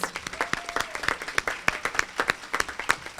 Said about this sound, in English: Let's give all of our students once again a big round of applause.